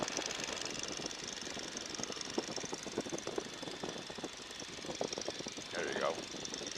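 A Stearman biplane in flight in Florida gives a steady propeller engine drone with a rapid, even pulsing beat throughout, loud and close, with a brief whistling sweep near the end.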